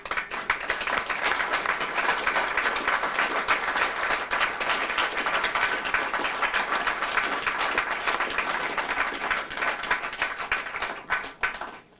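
A hall audience at a 1996 Amoco company share fair claps for a group of consultants, a long even wash of applause holding steady before thinning out at the close.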